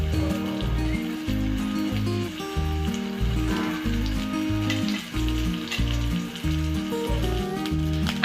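Fish frying in oil in a pan, a steady sizzle running through the whole stretch beneath prominent rhythmic background music.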